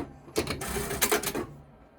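A sewing machine back-tacking the seam of a fabric scrunchie, with two short close whirring bursts of stitching separated by a brief pause.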